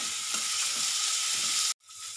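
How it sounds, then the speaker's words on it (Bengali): Tomato added to onions frying in a pan, a steady bright sizzle with faint stirring clicks, then a sudden brief drop before the sizzle resumes more quietly. "এবার আমি দিয়ে দেবো টমেটো"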